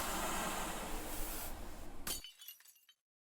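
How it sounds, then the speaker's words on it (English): Glass shatters loudly into a room, a heavy crash followed by a scatter of tinkling shards that quickly fade to silence. "Shreds of glass gushed into the room."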